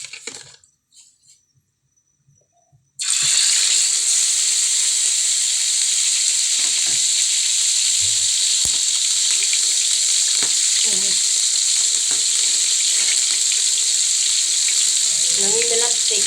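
Kabilbil fish fry in hot oil, a sudden loud sizzle bursting in after a quiet start and holding steady and close. Faint clinks and murmured talk sit underneath.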